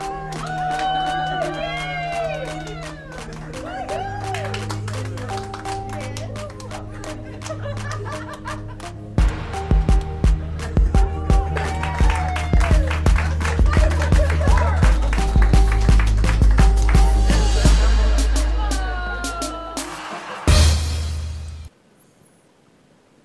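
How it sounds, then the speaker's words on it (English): An audience claps rapidly and persistently amid laughter and cheering, swelling into a dense, loud wave over voices and tonal music before cutting off abruptly. "They're applauding, they're clapping."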